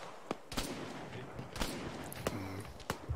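Gunfire in a military combat video game set in Mosul, with several sharp, loud shots and short bursts spread across the stretch over a noisy battle background.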